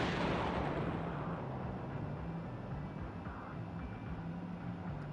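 An explosion in Zenless Zone Zero, a loud broad boom at the start that decays into a long rumbling roar fading slowly.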